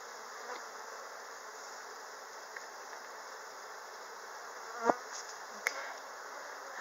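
A dense, steady hum of many honeybees buzzing at an open hive during a spring inspection, with a few faint clicks and knocks over the drone, no voices.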